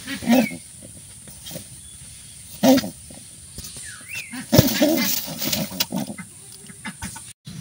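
A nesting pigeon defends its nest against a hand, giving several sharp bursts of agitated calls and pecking scuffles between quieter pauses, up close.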